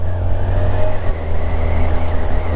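A Kawasaki Z1100 four-cylinder motorcycle engine running, heard up close as a loud, steady, smooth hum that barely varies and has no speech over it.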